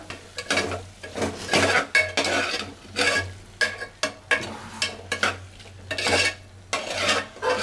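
A spoon scrapes and stirs spices through a sizzling pan of barbati, potato and tomato curry in repeated rhythmic strokes, with metal clinks against the vessel over a low background hum.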